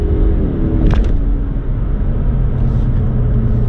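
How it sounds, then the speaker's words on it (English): A manual transmission car is upshifted while the engine rumbles loud and close. A short sharp click from the shift is followed by the engine note changing pitch. No talk is heard. "Now upshift."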